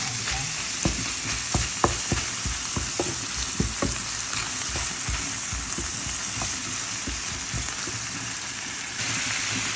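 Ground pork and onion frying and browning in a pan, a steady loud sizzle with scattered sharp clicks of a utensil scraping and stirring, no voices.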